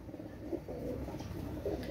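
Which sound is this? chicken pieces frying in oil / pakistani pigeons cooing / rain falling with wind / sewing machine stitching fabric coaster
pakistani pigeons cooing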